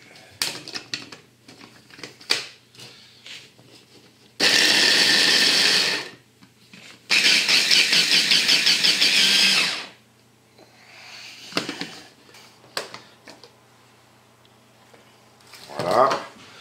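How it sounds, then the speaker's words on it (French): A kitchen food processor whirring in two loud, steady bursts of a few seconds each, with a short pause between, surrounded by quieter clinks and handling sounds while making a giant hamburger. "Alors là je fais avec le robot"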